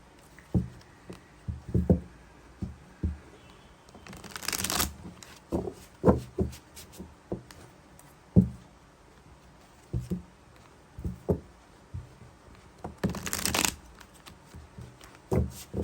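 A deck of tarot cards shuffled by hand in repeated short riffles and taps, with two longer fluttering bursts of cards cascading, close and clear with no talk.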